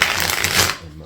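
A deck of tarot cards riffled and shuffled close up in one quick, dense burst of flapping card noise lasting under a second.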